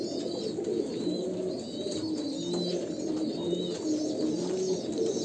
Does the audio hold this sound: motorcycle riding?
no